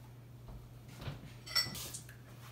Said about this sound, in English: Don't mind me just drying off my spoon.